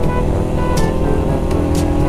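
A Yamaha RX King motorcycle accelerates on the road, a loud, dense engine roar with a raspy two-stroke buzz, steady and near, with wind noise over the microphone.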